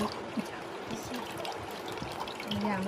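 Mango pulp being strained, its liquid trickling steadily through the strainer in a home kitchen, soft and continuous over a faint background murmur.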